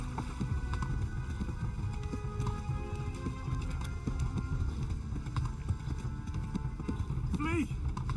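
Rhythmic clip-clop of horse hooves galloping steadily in the video game Kingdom Come: Deliverance, mixed with game ambience and a brief tonal sweep near the end.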